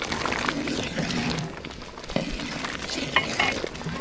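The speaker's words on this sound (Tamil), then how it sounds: "எல்லா தூளும் சேர்த்தாச்சு நல்லா கலந்து விட்டுக்கலாம்" A spoon stirring spice powders, including coriander, turmeric and sambar powder, into a pot of sambar, giving soft scraping and occasional metallic clinks against the vessel over a background of kitchen sizzle.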